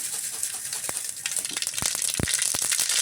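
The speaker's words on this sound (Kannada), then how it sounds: "ಸಾಸಿವೆ ಹಾಕ್ಕೊಳ್ತಾ ಇದ್ದೀನಿ." Mustard seeds sizzle in hot oil in a pan for a tempering, a steady crackling hiss with a few sharp pops standing out near the end, close and fairly loud.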